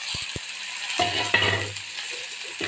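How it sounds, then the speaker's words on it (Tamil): Onion, curry leaves and green chillies hit hot oil in a pan for tempering, letting out a steady sizzle with scraping and stirring scuffs of a ladle and a few clinks against the metal. "இது வாங்க நல்லா தாளித்து விட்டுக்குருவோம்."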